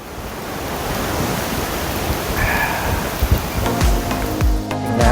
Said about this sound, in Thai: ทุกคนได้ยินเสียงลมไหมองจริงคือเสียงลมแบบน่ากลัวนะ